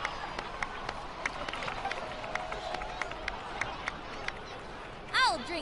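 Genshin Impact crowd applause comes as a steady patter of scattered clapping, fairly soft and continuous, with a voice rising near the end.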